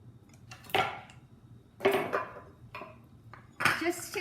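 Fresh figs dropped one by one into a bowl holding about a teaspoon of honey, giving four short, close clinks and knocks spaced about a second apart against a quiet room.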